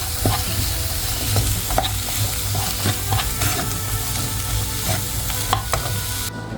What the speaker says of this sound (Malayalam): ആവശ്യത്തിന് ഉപ്പും ചേർത്ത് നമുക്ക് നന്നായിട്ട് സോട്ട് ചെയ്ത് എടുക്കാം